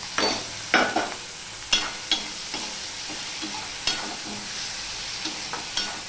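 Chopped tomatoes go into a pan of fried onions and fry with a soft sizzle; a spatula clacks and scrapes against the pan in irregular strokes, loud and near, with no talking.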